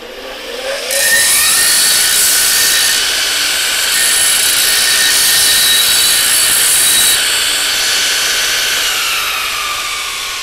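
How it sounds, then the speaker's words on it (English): Loud, continuous high-pitched grinding as a notched steel tube from a Baileigh TN-800 tubing notcher is deburred, a close steady whine lasting nearly the whole stretch with no talk. "I'll deburr it real quick, show you."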